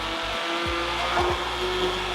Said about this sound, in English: we're ready to mix in with our immersion blender